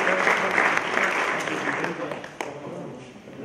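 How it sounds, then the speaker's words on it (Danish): A live audience claps steadily and warmly for Ture, a dense wash of applause that fades gradually, with a voice speaking over it near the start. "skal vi ikke lige give Ture et stort bifald"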